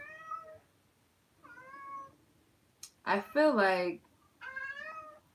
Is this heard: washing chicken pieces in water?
no